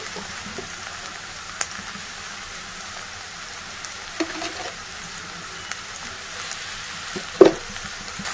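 Okra and red chillies fry in a pan with a steady, soft sizzle, broken by a few brief clinks and scrapes of stirring, including one sharper knock near the end; no one speaks.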